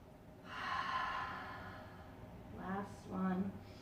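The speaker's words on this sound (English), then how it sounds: "2 more deep cleansing breaths" Deep cleansing breaths during yoga breathwork: one long slow close exhale, followed after a pause by two shorter audible breaths through the nose, soft and near.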